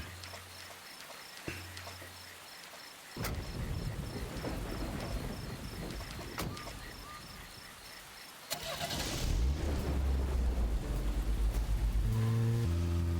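A car in the Deadly Premonition video game starts up with a few sharp clicks, then its engine rumbles and drives on over a constant chirping insect ambience, growing louder toward the end.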